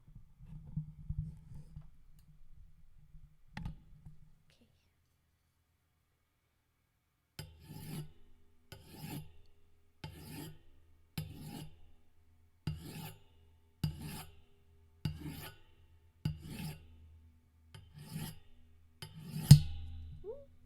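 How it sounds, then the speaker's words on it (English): A microphone arm is moved and adjusted, producing close handling noise. A brief rustle comes first, then silence, then about ten regular rasping, scraping strokes, the last one a sharper knock. "It might be loud while I move the mic a bit"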